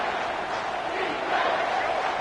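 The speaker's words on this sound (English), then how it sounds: "the crowd really making some noise now, trying to help out this defense to get this stop near the goal line" A football stadium crowd roars as the defense tries for a stop near the goal line, a dense, steady wash of cheering that swells slightly toward the end, with no clear talk on top.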